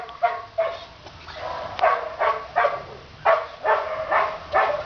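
Young dog, one of a litter, giving a steady series of short, close barks and yips in a regular rhythm against a faint background.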